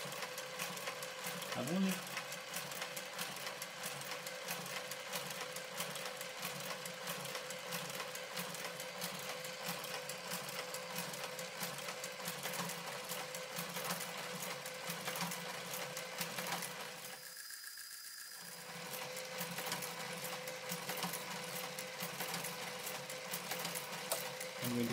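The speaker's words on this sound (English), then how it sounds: "So let me just switch on the garter carriage." A Brother KG95 garter carriage on a knitting machine runs with a steady mechanical whirring and rapid clatter, briefly pausing partway through, while a voice speaks a few words.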